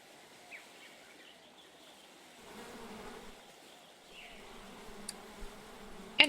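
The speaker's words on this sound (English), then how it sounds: "Ah, it's grumpy bees." Soft, low buzzing of bees in the APICO video game swamp area plays quietly over a faint ambient background, swelling slightly midway, with a few small clicks near the end.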